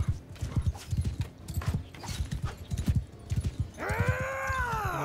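Horse hooves clip-clop in a steady, fast rhythm in the game Mount & Blade II Bannerlord, close and fairly loud, and near the end a horse's whinny rises over them.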